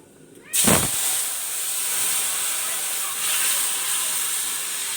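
Panch phoron spices hit hot oil for tempering a rohu fish curry with bottle gourd, bursting into a loud, close, steady sizzling hiss that holds for several seconds.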